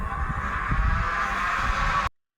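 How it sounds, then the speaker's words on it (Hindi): The small electric motor of a toy foam dart gun whirs steadily at a high, even pitch for about two seconds, then cuts off abruptly into silence. "हमारी गन तो काफ़ी तेज़ी से आवाज़ कर रही है"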